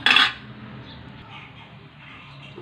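A metal kadai for tempering a drumstick sambar clanks down onto the stove in one sharp, close metallic hit, followed by a quiet room hum and a faint click at the end.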